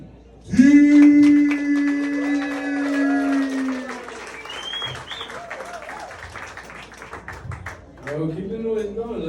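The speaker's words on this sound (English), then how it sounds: "Clap it up for Brian." Comedy show audience clapping and cheering for the next comedian taking the stage, a loud burst of applause that swells then thins out, with a host's voice talking over it and a fresh surge of noise near the end.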